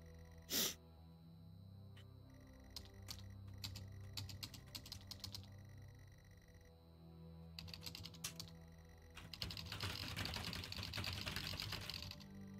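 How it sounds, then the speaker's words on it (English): Computer keyboard typing in the video game Stories Untold, bursts of quick keystrokes separated by pauses, building into dense continuous clatter toward the end, with a sharp breathy burst early on. "So you hear two keyboards, me, my keyboard and a game keyboard."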